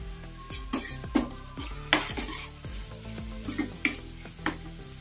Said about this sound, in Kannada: ಹೈ ಫ್ಲೇಮ್ ಅಲ್ಲಿ ಇಟ್ಕೊಂಡು ಒಂದು 2 ನಿಮಿಷ ಕಲಸ್ಕೊಂಡ್ಬಿಡೋಣ